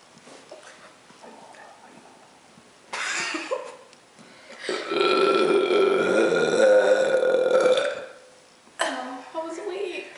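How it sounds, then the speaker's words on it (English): Loud, close burps from a burping contest rematch between two competitors: a short belch, then a long drawn-out rumbling burp lasting several seconds, followed by another brief one, with breathy throat sounds between. "this is a rematch of the burp contest"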